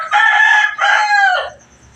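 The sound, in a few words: rooster crowing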